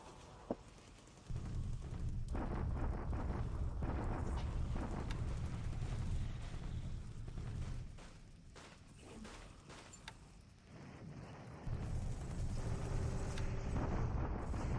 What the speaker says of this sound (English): We're bombarding. We've got tons of stuff shooting shells.